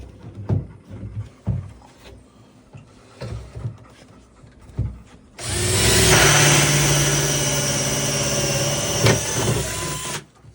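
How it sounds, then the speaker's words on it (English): An angle bit drill fitted with a 1 1/4 inch bit bores a hole during a 110v pump install. After a few quiet knocks, the drill runs as a steady, loud whirring grind for about five seconds before stopping. "So we're gonna go ahead and drill that hole now."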